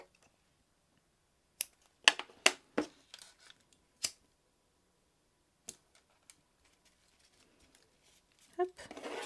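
Small scissors snipping macramé bracelet cord flush, several sharp clicks and snips scattered across a quiet room, with a short rustle of handling near the end.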